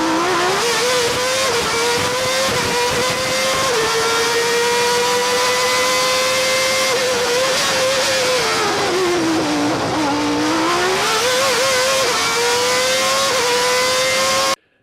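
Senna's Formula 1 car screams through a qualifying lap at Monaco, a loud, close, high-pitched engine wail that rises and falls with gear changes and braking, dipping sharply once before climbing again, with no talk.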